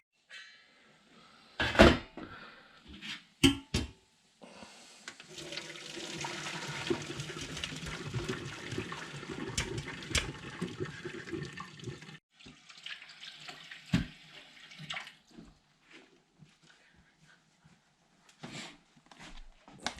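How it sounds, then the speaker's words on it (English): Water from boiled potatoes draining into a cabin kitchen sink, a steady rushing pour lasting several seconds, bracketed by sharp clanks of pot and lid and quieter handling knocks. "drain the water."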